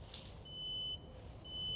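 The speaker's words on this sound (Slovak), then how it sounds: "keď nebudete vedieť, že čo to vlastne pípa, tak vedzte, že je to smerovka" The turn signal on an Angwatt F1 electric scooter beeps as a thin, steady electronic tone. Two even pulses sound alone over a quiet background hum.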